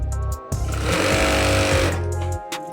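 A sewing machine stitches elastic capri fabric in a loud, rapid mechanical run lasting about two seconds, starting and stopping with short bursts at each end, close and alone.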